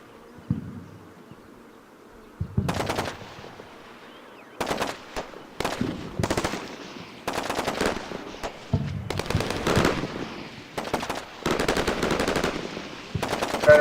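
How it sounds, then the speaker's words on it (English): Sustained firefight in the Combat Mission Shock Force war game: bursts of rapid automatic gunfire and single shots crackle in irregular clusters after a quiet opening, loud and dense with no talking. "And now a firefight erupts."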